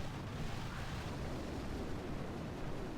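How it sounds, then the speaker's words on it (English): Artillery strikes in the Boom Beach mobile game, heard as a dense, continuous rumble of overlapping explosions that stays loud and even from start to finish, with no voices. "Let's go ahead and just chuck in a couple artillery."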